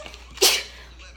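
A single sharp, loud sneeze bursts out close to the microphone in a quiet room, preceded by faint breathing.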